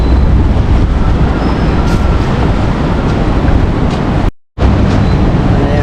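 A loud, steady roar of a passing train near Hua Lamphong, Bangkok, fills the whole stretch, broken by a brief cut of silence near the end.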